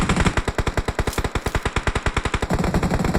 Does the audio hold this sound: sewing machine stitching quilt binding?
no